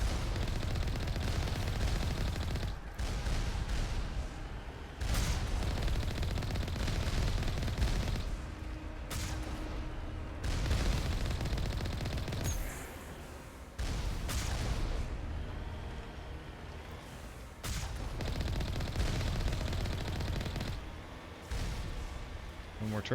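Rapid, continuous gunfire from tracking turrets in the video game Mass Effect Anniversary Edition, loud and dense with brief gaps, mixed with other game effects and a voice talking.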